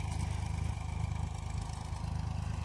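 A tractor sows chickpea seed in a field: a steady, throbbing mid-pitched diesel engine with a rapid pulsing rhythm and faint clatter, heard continuously at moderate distance with no talk.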